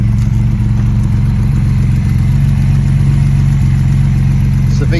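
A Cobra replica car with a stage 1 tuned Ford 2.8 V6 idles close by, giving a loud, steady, even rumble with a regular pulsing beat throughout.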